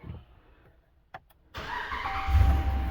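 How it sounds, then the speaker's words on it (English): A Dodge Ram engine cranking briefly after a starter replacement, then catching and settling into a loud steady idle close by. "anytime I do a starter in any vehicle, I always check it 3 times in a row"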